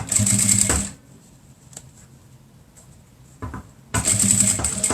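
A sewing machine backstitches the seam of a 3D cloth face mask, with two loud bursts of rapid needle chatter at the start and end, separated by a quieter pause with small handling clicks.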